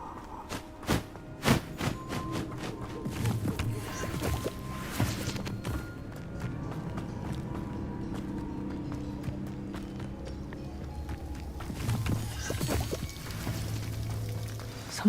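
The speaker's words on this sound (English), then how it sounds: "The waterfall." A waterfall in Hogwarts Legacy rushes as a continuous broadband wash of falling water. Footsteps and hoof-like clopping sound over it at the start and again near the end.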